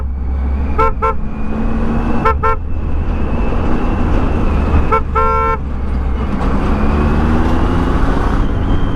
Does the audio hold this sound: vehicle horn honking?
yes